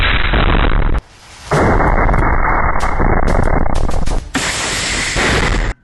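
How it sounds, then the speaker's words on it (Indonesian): Loud blasts from anti-tank fire in combat in Jabalia al-Balad, Gaza, heavy booming bursts filling the sound with a sharp cut and a second burst near the end, harsh and distorted, with no voices. "Ledakan keras mengguncang lokasi disertai kobaran api yang membuat pasukan Israel terpaksa mundur"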